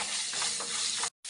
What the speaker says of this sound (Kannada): ಈರುಳ್ಳಿ ಸ್ವಲ್ಪ ಫ್ರೈ ಆಗಬೇಕು.